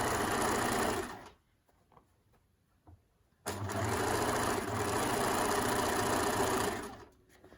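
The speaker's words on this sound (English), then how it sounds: "I'm just going to stitch the whole way across, removing the pins as I go, like this." A sewing machine runs steadily, stitching across cotton sateen with a slight stretch. A long loud whirring run is followed by a quiet pause with faint clicks, then a second sustained run, close and alone.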